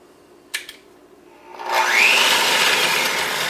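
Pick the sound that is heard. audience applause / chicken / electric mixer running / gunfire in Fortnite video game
electric mixer running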